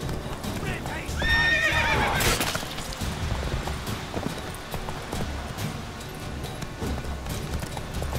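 Horse galloping in The Witcher 3, with a loud whinny early on and steady clip-clop hoofbeats throughout, a voice talking over the riding.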